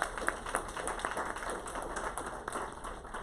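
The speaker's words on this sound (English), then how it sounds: "Please give her a round of applause." A room of people at a county adoption day ceremony clapping, a fairly soft, even patter of hands lasting a few seconds with a few sharper claps standing out.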